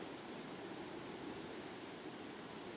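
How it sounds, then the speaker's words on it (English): A loud river rushes beside a rainy campsite, a dense, unbroken roar of flowing water, steady and close with no variation, alone without voices. "I just hope you can hear me over the sound of this river"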